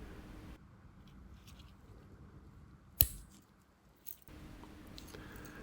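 Scissors on an Alox limited-edition Swiss Army Classic SD knife make one sharp, close click and then a softer second one against a very quiet room background, with no talking.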